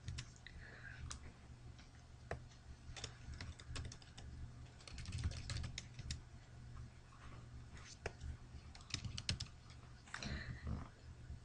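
Keys clack on a computer keyboard while a user types a password, name and account details during online sign-up, scattered taps and short bursts standing out over a steady low hum.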